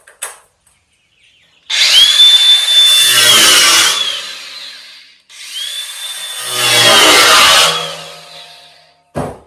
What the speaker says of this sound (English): I take a jigsaw blade and stick it in there and cut right around this beam.